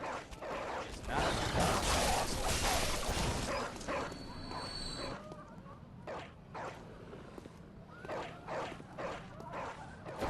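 Dogs in the video game Bloodborne, a burst of barking and yelping loud over game noise, then sparser yips and clatter as a person talks.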